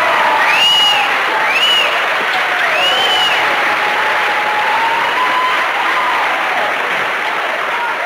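A loud, rowdy audience at a Charles Bukowski poetry reading bursts into sustained applause and cheering, dense clapping holding steady throughout with whoops and shouts rising above it.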